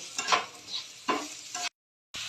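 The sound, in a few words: stirring onion and capsicum frying in a pan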